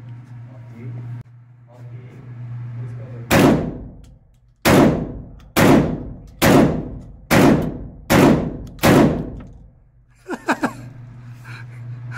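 Seven loud, closely spaced shots ring out in a rapid string from a Toro Arms SA1202 12-gauge semi-automatic shotgun, each blast sharp with a decaying tail, fired at close range outdoors, with faint talk before and after.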